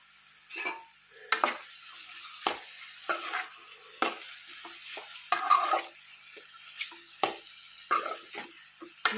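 Ridge gourd and drumstick pieces cooking in a pan for a curry: repeated spoon scrapes and clinks against the pan every second or so over a soft sizzle, close by and without speech.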